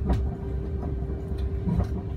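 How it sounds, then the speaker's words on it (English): A small driverless pod car at Heathrow Airport runs along its guideway toward business parking: a steady close rumble with faint rail-like clicks and a constant electric whine, no voices. "Little train's going."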